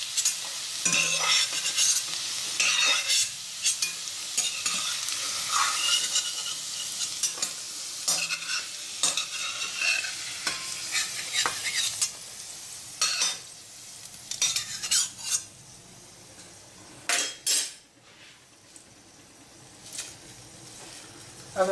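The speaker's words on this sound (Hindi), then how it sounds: "आलू हमारा फ्राई हो गया" Potatoes sizzle steadily while frying in a pan, with a utensil stirring and scraping through them in irregular strokes close by, continuous throughout.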